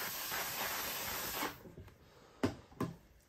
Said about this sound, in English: Throw that steam.